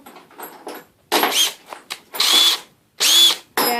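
Power drill boring into steel during a garage door replacement, its motor whining in three loud bursts with quieter starts between them, close by and with no talking.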